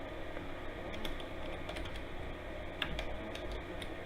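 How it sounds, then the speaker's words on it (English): Rapid typing on a computer keyboard, steady clusters of light clicks and key taps running throughout, fairly close and alone over a low background hum. "I don't know why I can't type all of a sudden."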